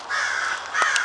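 A crow gives a single loud, harsh caw close by on a wooded trail, and a shorter sharp call follows near the end, with no talking.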